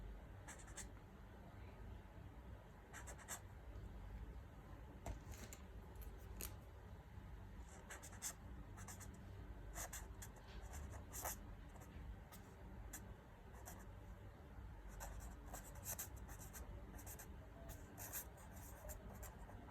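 Faint, close handwriting as someone writes out a matrix, with a continuous run of small scratchy pen strokes and taps in irregular bursts over a quiet background.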